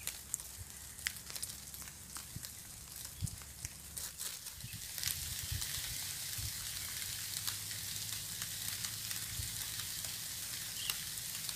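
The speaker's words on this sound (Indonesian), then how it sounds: "Serius ini hujannya" Steady rain falls at an outdoor fishing spot, a dense, even hiss with scattered close patters and drips that thickens partway through, with no voices.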